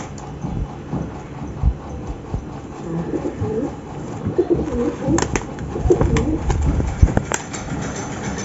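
Pigeons coo nearby, soft repeated throaty calls layered with scattered knocks and rustling, moderately loud and close throughout.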